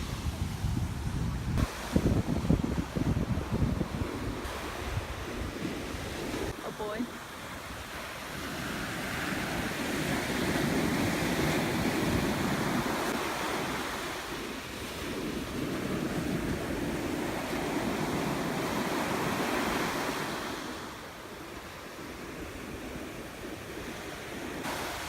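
Ocean surf on a beach in autumn rolls and breaks continuously, with wind buffeting the microphone and a low wash of waves swelling and receding throughout.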